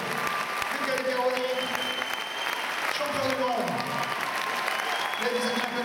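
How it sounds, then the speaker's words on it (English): Audience applause at a gala world championships event in France, sustained crowd clapping under and around a voice speaking through the whole span. "please, applause for David Crowley"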